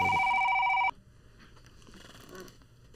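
A telephone bell rings loudly and close for just under a second with a steady electronic tone, then cuts off, leaving a quiet room with faint low background noise.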